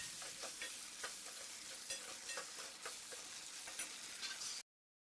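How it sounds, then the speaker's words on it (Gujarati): A spoon stirs vegetables and finely chopped potatoes frying in a pan for Kathiyawadi chapdi undhiyu, with repeated rhythmic scraping strokes over a soft sizzle. The sound then cuts to silence near the end. "શાકને આપણે વચમાં ફેરવતા રહીશું."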